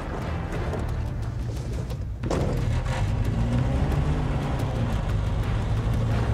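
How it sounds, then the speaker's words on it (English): A UAZ Russian military four-wheel-drive vehicle drives along with a steady low engine drone and rumble, close and continuous, with a brief thump midway. "This is what's called a UAZ, and it's a Russian military vehicle, or ex-Russian military vehicle, should I say"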